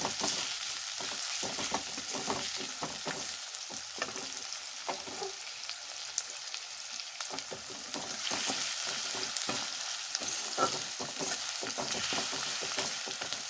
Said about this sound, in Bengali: দিচ্ছি দুটো কাঁচা লঙ্কা, একটু ভেজে নেব পেঁয়াজটা মিডিয়াম আছে।